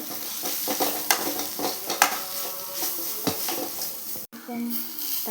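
Chicken masala spiced with fresh turmeric powder frying and being stirred in a pan, with steady close sizzling and repeated sharp scrapes and clinks of a utensil against the pan.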